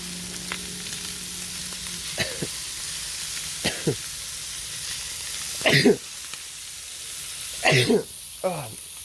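A cobia fillet sizzles steadily in butter coated with peppery blackening seasoning, cooking outdoors, a constant frying hiss with a few louder clatters and scrapes over the top.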